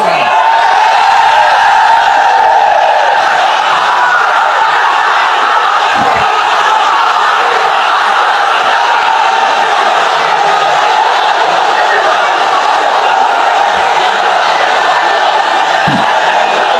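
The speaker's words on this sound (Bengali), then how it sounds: "slogan is on" A large crowd at a religious gathering chanting slogans in unison, a loud, sustained roar of many voices that fills the space without pause.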